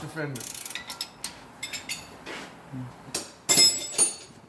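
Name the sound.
box end wrench turning a nut on a Nissan Maxima hub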